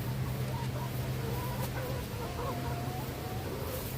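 Hens clucking and murmuring nearby, soft repeated calls over a low steady background hum, with no one talking.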